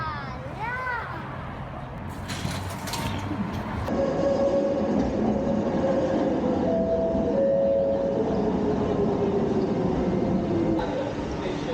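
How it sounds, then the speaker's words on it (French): A metro train at Kuala Lumpur's central station rumbles steadily and loudly throughout, with rising and falling tonal whines as it moves, and brief voices and station noise early on. "On prend le premier métro."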